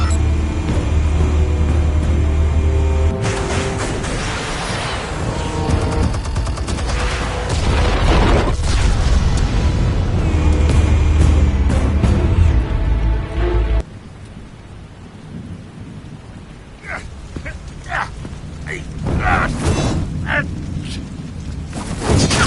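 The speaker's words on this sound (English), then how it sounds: "Explosives armed. Fire when ready." Explosives detonating in Batman: The Telltale Series, a loud rumbling blast with heavy low booms and crashing debris that rolls on for several seconds, then drops to quieter scattered crackles and impacts.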